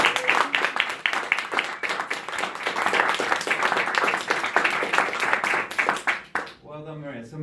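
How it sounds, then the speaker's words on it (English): An audience at a Toastmasters meeting applauds in a steady, dense round of clapping from many hands, loud and close, fading out near the end as a voice begins speaking. "Can I have a round of applause for Maria?"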